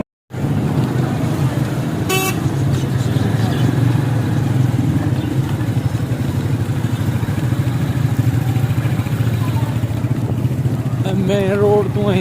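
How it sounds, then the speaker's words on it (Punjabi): Motorcycle ride along the Tapiala–Narowal road, a steady close engine drone with road and traffic noise throughout, a short car horn toot partway through and more honking near the end. "ਮੋਟਰਸਾਈਕਲ ਤੇ ਜਾ ਰਹੇ।"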